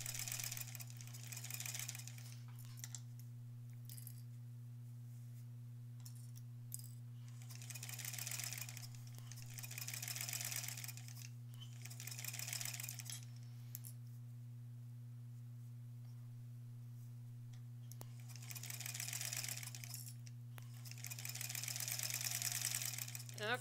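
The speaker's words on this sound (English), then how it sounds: "So let's just keep sewing along the edge here." Sewing machine stitching along the edge of a lined zipper pouch, running in several bursts of fast whirring separated by pauses, faint against a constant low electrical hum.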